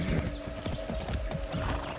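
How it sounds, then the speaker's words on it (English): A horse in the video game Far Cry 6 gives steady clip-clopping hooves and a whinny, loud and close, filling the whole stretch with no talk. "Be nice, horse."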